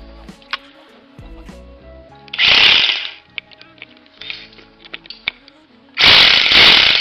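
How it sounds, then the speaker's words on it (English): A rock drill starts a bolt hole in a natural rock face, two loud bursts of hammering drilling about a second long each, separated by quieter mechanical ticks and clunks. "So I'm just going to feather the drill bit just to get the bit to bite."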